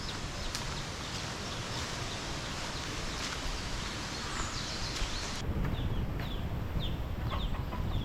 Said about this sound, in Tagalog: Ayan, maraming manok dito.